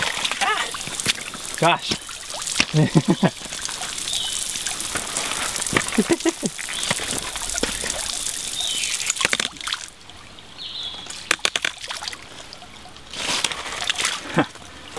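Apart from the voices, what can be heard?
water splashing from opened ram pump standpipe draining air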